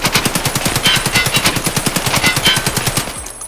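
Rapid automatic gunfire in a video game, fired from a crouch with US ammo: a loud, steady stream of close shots at an even fast rhythm for about three seconds, then stopping.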